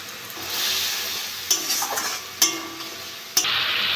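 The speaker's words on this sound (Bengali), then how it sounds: "মশলাটা ভালো করে কষে নেবো।" Spice masala with coriander powder sizzles steadily in oil in a pan, while a spatula stirs it with three sharp scrapes against the metal.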